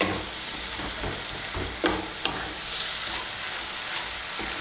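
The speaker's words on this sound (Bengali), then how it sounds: "গুঁড়ো মশলাটাকে ভালো করে মিশিয়ে নেব।" Ground spices stirred into a fish curry with potatoes as it cooks in a pan, a steady broad sizzle with a few sharp scrapes and clinks of the spoon, close and continuous, with no voices.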